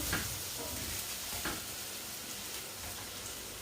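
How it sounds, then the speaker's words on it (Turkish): Butter melts and sizzles in a home kitchen pan, giving a soft, steady frying hiss that stays quiet and close throughout, with a couple of faint stirring scrapes and no talking. "Şimdi az sonra da şöyle tereyağı erisin, bir karışsın."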